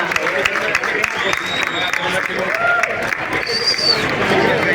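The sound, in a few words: audience applause at a cider festival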